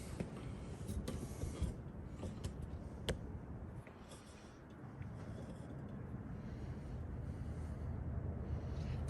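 Someone works a snap ring out of a TH400 transmission: faint, close metallic clicks and small scrapes come at irregular intervals over a quiet workshop hum.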